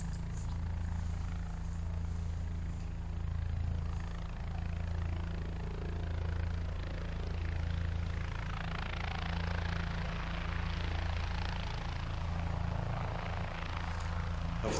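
A steady, droning whir with a low hum runs continuously, like drone propellers buzzing overhead at Tortilla Flat, Arizona, with no voices.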